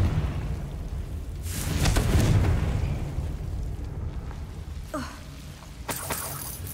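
A blasting-spell explosion in the Hogwarts Legacy video game: a loud, rumbling boom that swells and rolls for a few seconds, followed by a crackling burst and another sharp blast near the end, with no talking.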